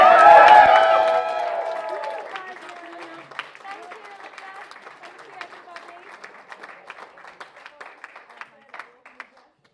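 Wedding guests at a reception cheer and applaud for the bridesmaids, starting as a loud burst of clapping and whoops that gradually thins to scattered, fading claps.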